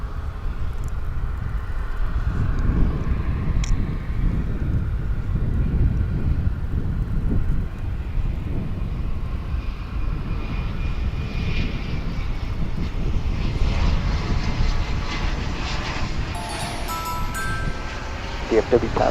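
A CRJ 700 regional jet comes in to land at DFW International Airport, its broad engine roar holding steady and close for the whole stretch, with faint radio chatter and wind noise underneath.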